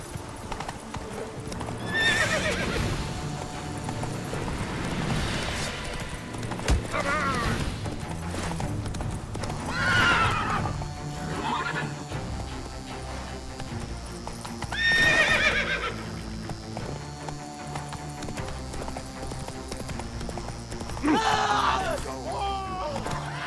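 Roach the horse galloping in The Witcher 3, steady clip-clop hoofbeats running throughout with several loud whinnies and neighs breaking in, close and prominent over a layer of game music and ambience.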